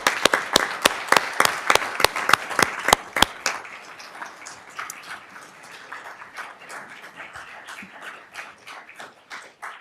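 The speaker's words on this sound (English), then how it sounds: "You deserve a round of applause for that." Applause at a Sacramento City Unified School District gathering opens with a few loud, separate claps, then settles into steady, softer clapping from the crowd.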